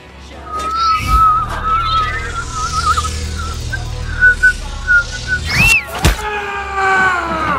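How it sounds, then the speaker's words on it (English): Yondu's whistling arrow from Guardians of the Galaxy Vol. 2 darts around in a post-credit scene, its shrill whistle rising and falling in bursts and swoops, ending in a sharp thunk and ringing tones. "Kraglin shoots Drax with Yondu's arrow."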